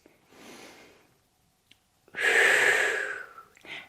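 Breath during a Pilates core exercise: a soft inhale, a pause, then a louder, longer exhale through the mouth with a brief breath at the end, close to the microphone.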